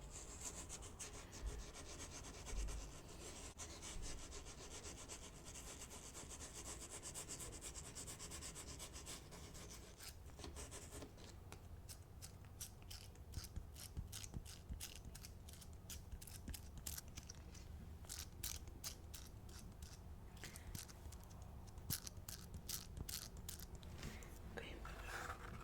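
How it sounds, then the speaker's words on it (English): Soft, close rubbing and scrubbing on lips during an ASMR facial skin treatment, a quiet, continuous scratchy texture that turns into rhythmic short strokes in the second half. "let's go ahead and scrub your lips."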